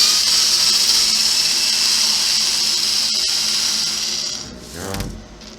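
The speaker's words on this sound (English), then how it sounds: "We'll unscrew that." Power screwdriver unscrewing a screw on an HPI Crawler King RC crawler, a steady high motor whine for several seconds that cuts off, followed by a short clatter of parts.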